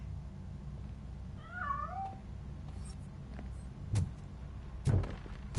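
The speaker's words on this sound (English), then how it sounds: "That cat must be hiding inside." A cat in the video game RoboCop: Rogue City gives two short, close meows in the middle of the moment, heard over a steady low hum, followed by a few soft knocks and clunks.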